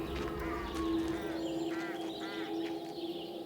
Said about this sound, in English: Those are birds.